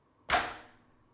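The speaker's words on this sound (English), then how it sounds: "This is played on the wood." A single sharp wooden knock on a dhol drum's body, bright and close, ringing out briefly before fading.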